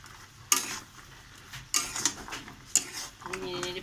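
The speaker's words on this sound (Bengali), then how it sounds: "অনবরত নাড়তে হবে এরকম ভাবে" Gur kathi sweets being stirred continuously in jaggery syrup, with a few sharp scraping and clinking strokes of a utensil against the pan separated by quieter sizzling stretches, under a faint voice.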